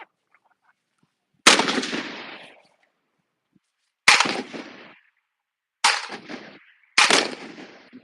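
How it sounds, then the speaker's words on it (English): M4 rifles fired at an outdoor range during the Best Ranger Competition: four sharp, loud reports spaced a couple of seconds apart, each trailing off in a short echo, with silence between. "M4s are being shot."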